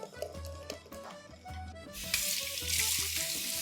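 Water runs and rinses in a kitchen sink, a broad steady hiss that swells louder in the second half, over low background music.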